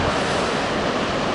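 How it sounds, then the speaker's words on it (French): Small ocean waves breaking at a surf beach in Anglet, a brief steady wash of surf with some wind rumble on the microphone. "il commence à y avoir quelques petites vagues."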